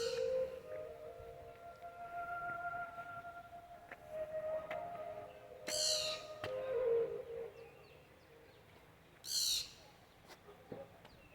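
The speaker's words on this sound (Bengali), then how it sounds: "দূরে একটা পাখির আওয়াজ পাচ্ছি" A bird calls from a distance on a hillside hiking trail between Siliguri and Darjeeling, long drawn tonal notes and a few sharp bursts in an otherwise quiet setting.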